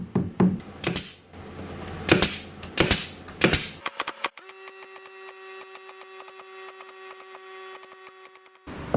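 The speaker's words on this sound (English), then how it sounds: "using an OG roundover bit, I cut a nice profile on this with the router" A router with an ogee roundover bit shaping a profile along poplar wood, heard as a run of woody knocks and scraping passes followed by a steady whining motor tone, with no talking.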